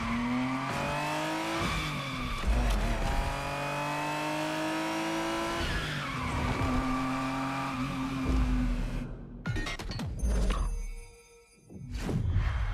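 A Ferrari Testarossa engine roars and revs loudly in The Crew Motorfest, with rising and falling gear changes, tire squeal and skidding throughout, then a brief drop before the engine surges again.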